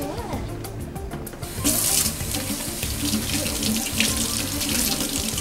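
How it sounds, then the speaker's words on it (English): Tap water pours into a sink as soapy hands are rinsed, the splashing rush growing louder and denser partway through and holding steady, with no talking. "Third, wash the soap off with the water."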